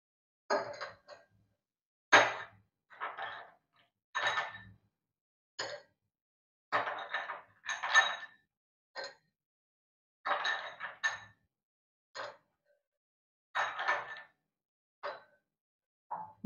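Ice cubes are dropped one by one into a glass of milk sarbath, producing a series of bright, sharp clinks and rattles scattered at irregular intervals, close and clear against an otherwise quiet background.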